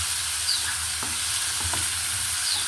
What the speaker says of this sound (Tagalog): Gisa-gisa lang natin to. Tapos lagyan na natin yung itong tangkay niya.